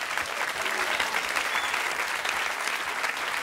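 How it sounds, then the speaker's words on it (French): A television studio audience applauds, a steady, dense wash of clapping from the crowd that holds at an even level throughout the short stretch. "On l'applaudit encore une dernière fois."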